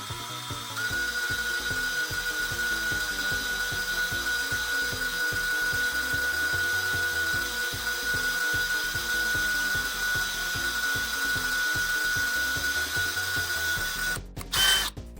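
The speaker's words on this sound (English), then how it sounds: "you'll come in with the bigger drill bit, finish it off." A bigger drill bit finishing a pilot hole for a custom Mr. Potato Head arm or foot part, heard as a steady, close, grinding drill whir with a faint high whine that runs unbroken for about fourteen seconds before a brief clatter at the end.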